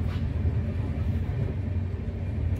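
Inside the Mumbai Mail passenger train running from Katni to Howrah, a steady low rumble and rolling drone continue throughout at an even level, with no distinct clatter.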